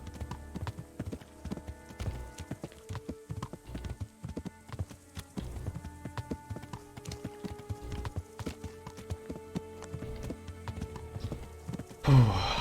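Horse hooves clip-clop in a steady trotting rhythm throughout, close and moderately loud, with an occasional whinny, from a horse ridden in the video game Kingdom Come: Deliverance.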